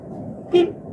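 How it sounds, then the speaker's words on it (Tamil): A short car horn toot sounds once over a steady engine rumble, close by and moderately loud. "horn one more"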